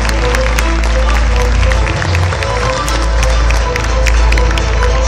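A hall audience gives loud, sustained applause at a ceremony honouring sports veterans in Tabriz, East Azerbaijan; dense clapping and crowd noise carry on without a break, with voices mixed in underneath.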